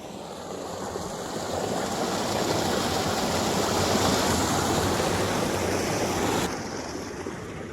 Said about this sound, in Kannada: ಇಲ್ಲಿ ನೋಡಿ ಕಾಲುವೆಯ ನೀರು ಹರಿತಾ ಇದೆ